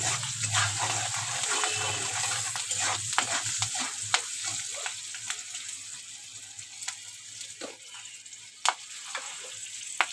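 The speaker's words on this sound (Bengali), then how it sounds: "এক চামচ হলুদ গুঁড়ো স্বাদ মতো লবণ দিয়ে একটু ভেজে নেব হালকা করে" Turmeric powder and salt fry in hot oil in a pan for a gainali greens curry, a loud close sizzle broken by scraping spoon strokes and occasional sharp metal taps, with no one speaking.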